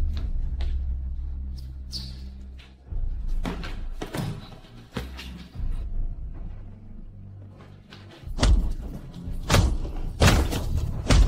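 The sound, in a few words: punches thudding in a fight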